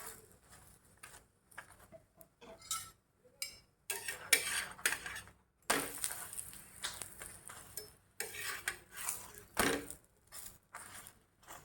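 Chapati roasting with ghee on a griddle, bursts of sizzling and scraping with metal clinks of a spatula between quieter pauses, no voices.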